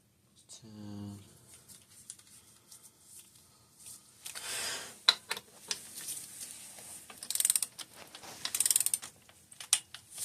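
Bolts torqued down on a 2013 Cannondale Trail 6 mountain bike during a rebuild, with rapid ratchet clicking in several bursts and metallic taps, close by, and brief talk near the start.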